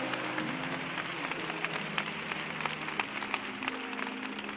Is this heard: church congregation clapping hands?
yes